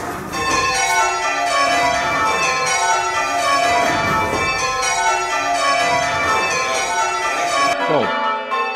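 Church bell ringing simulator played with one-handed ringing on training bells: a continuous dense wash of overlapping bell tones sounds loud and steady throughout, then cuts off abruptly near the end.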